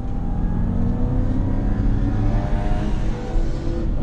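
Porsche Boxster 986 2.5 accelerating hard on the Nürburgring, heard from inside the cabin as a steady loud engine drone with rising revs throughout.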